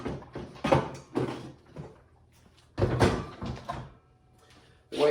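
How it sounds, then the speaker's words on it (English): Hand tools clanking and rattling as they are lifted out of a Ridgid Pro Gear drawer tool box, with loud bursts of metallic clatter separated by quieter pauses, close and fairly loud with no speech. "let me take these tools out."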